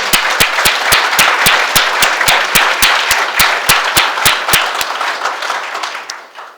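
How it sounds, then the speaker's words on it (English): Audience applause at a police swearing-in ceremony, clapping in a loose rhythm loud and close at first, then thinning out and fading away toward the end. "Let's give our officers another round of applause."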